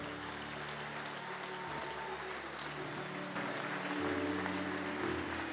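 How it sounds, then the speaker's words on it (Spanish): Churchgoers clap during a Spanish-language church service, a sustained, even spread of applause running under steady keyboard or music tones. "Dele un aplauso al Señor."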